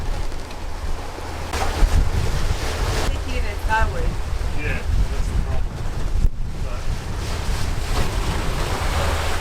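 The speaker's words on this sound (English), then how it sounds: "Serious chop here. We just had one of the biggest waves so far come down on us." Choppy sea waves slap and wash against a sailing boat with no sail up, mixed with constant wind buffeting the microphone, while a person speaks briefly over the rough, rocky water.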